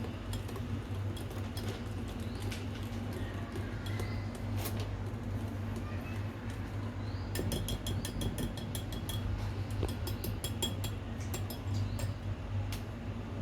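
Brownie batter being stirred briefly in a bowl makes faint, irregular clicks and taps of a utensil against the bowl over a quiet, steady background hum.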